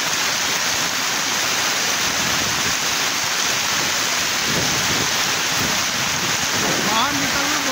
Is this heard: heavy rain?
yes